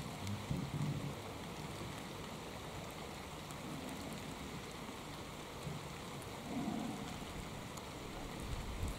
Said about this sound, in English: sat in the pouring rain